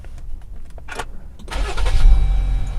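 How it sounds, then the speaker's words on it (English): A Jeep Gladiator SandRunner's engine cranks and catches with a loud starter whir, then settles into a deep rumbling idle, preceded by a few faint clicks. "So let's start the car."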